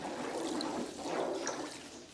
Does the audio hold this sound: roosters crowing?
no